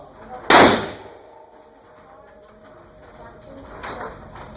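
A single loud pistol shot cracks sharply at an indoor gun range, with a long ringing decay, and a second fainter report follows a few seconds later.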